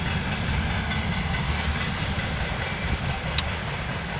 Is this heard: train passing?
yes